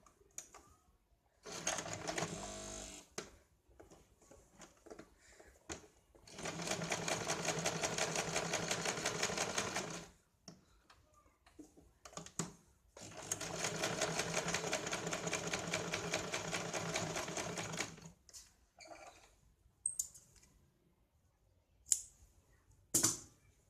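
A sewing machine stitches the fitting seam on a blouse sleeve turned inside out, running in two long steady bursts of rapid stitching, with short pauses and light handling clicks between and after.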